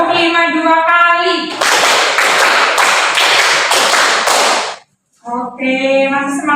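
A class of students doing the rhythmic 'tepuk 5' clap twice, a burst of sharp, fast hand claps in a patterned rhythm between stretches of a voice speaking close by.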